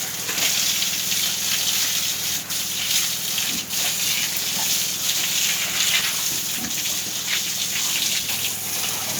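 Water gushes steadily from a hose onto pigs being bathed on a farm, a continuous splashing rush at close range with no talking.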